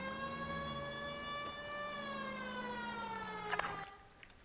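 A siren sound effect inside a video game wails continuously with rich harmonic layers and a slow gliding pitch, steady and fairly loud, cutting off near the end with a few sharp clicks.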